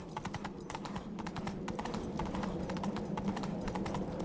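A horse gallops in The Witcher 3: Wild Hunt, its hooves pounding in a fast, steady clip-clop rhythm at moderate volume over a low rumbling background, with no talk.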